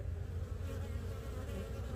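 Dense, continuous hum of honeybees swarming around a hive box entrance as foragers return heavy with pollen from chrysanthemum and corn flowers, even and near.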